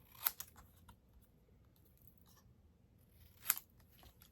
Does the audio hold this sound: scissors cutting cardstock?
yes